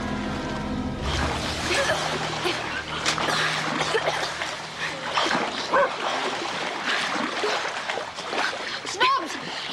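A dog barks and whimpers while water splashes around it in a flooded, rotting room, with agitated voices talking over the commotion.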